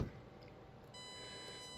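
A steady high electronic beep from an RC car receiver binding to its radio starts partway through and holds, faint under a quiet room hiss.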